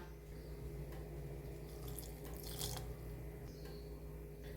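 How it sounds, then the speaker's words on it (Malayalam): Water is poured into a fish curry at low volume, a soft continuous trickle with faint splashes, no voices. "ആവശ്യത്തിന് വെള്ളം കൂടി ഒഴിച്ചു കൊടുക്കണം"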